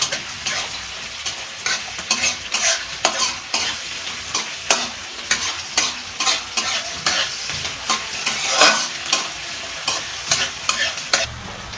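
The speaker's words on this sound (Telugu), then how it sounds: "ఇప్పుడైతే ఆనియన్స్ వేస్తున్నాను పచ్చి అంత వరకు వేగనించాలి" Chopped onions fry in a pan for a curry: a steady close sizzle broken by frequent sharp scraping strokes of a spoon stirring, with no voices.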